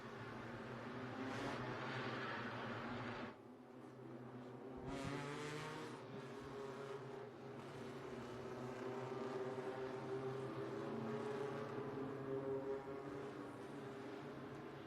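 Mazda MX-5 Cup race cars lapping the half-mile Martinsville Speedway oval, a continuous loud engine drone from passing cars with swelling and fading bursts as they sweep by, steady throughout with no talk.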